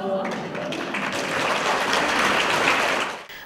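An audience applauds actors at an operetta and musical festival, a dense sustained wash of clapping that swells and then fades after a few seconds.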